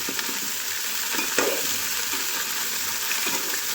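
Cauliflower stirred and frying in oil in a pan gives a steady loud sizzle, with occasional scraping stirs rising above it, close up and without voices.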